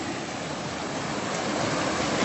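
Steady broadband rush of a waterfall and flowing water at a swimming hole at Agua Salada, Poza Azul in Morelos, continuous and fairly loud with no voices over it.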